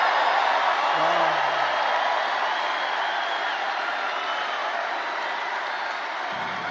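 A loud rally crowd roars on election eve 2024, a steady dense wall of cheering and shouting heard from amid the crowd, with a brief voice in the first seconds.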